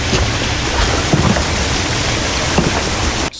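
A broadband rush of falling water from a waterfall serves as an ambience in an Unreal game sound design scene. The roar is dense, continuous and loud, like steady heavy rain, and no voices are heard.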